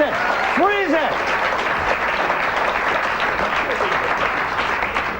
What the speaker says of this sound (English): You're applauding. You don't even know what happened.